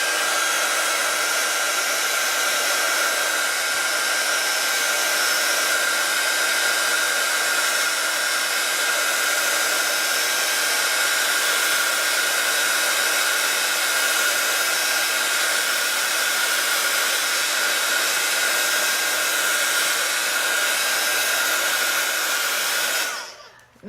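A hair dryer blows steadily on alcohol ink for over twenty seconds, a loud, even whooshing hum with a fixed whine, before switching off abruptly at the end.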